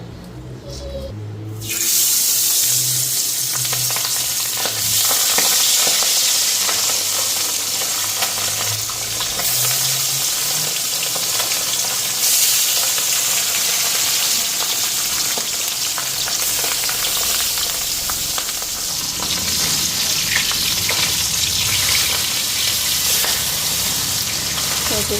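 Fish coated in salt and turmeric frying in very hot oil in a wok, a loud, close, continuous sizzle that stays strong throughout after a brief quiet start.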